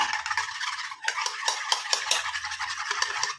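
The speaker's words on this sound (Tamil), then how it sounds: "அதையும் சேர்த்து நல்லா இந்த மாதிரி மிக்ஸ் பண்ணிடுங்க" Hair dye mixture being stirred in a bowl, repeated scraping and clinking strokes of a spoon against the bowl in an irregular rhythm, close and fairly quiet, with no talk.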